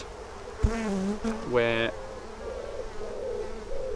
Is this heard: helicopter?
no